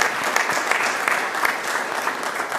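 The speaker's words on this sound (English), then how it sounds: "Let's give Andre a round of applause" Brisk, continuous clapping from the audience at a transit board of directors meeting, loud and close throughout the short stretch with no voices over it.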